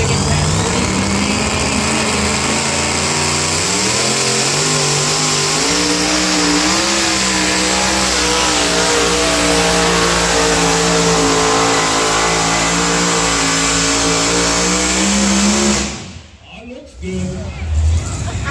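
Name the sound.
alcohol-fueled two-wheel-drive pulling truck Taz revving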